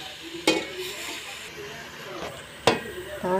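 Salmon head pieces sautéing in a pan, a soft steady sizzle broken by two sharp metallic clanks of a utensil or lid, with someone talking quietly over it.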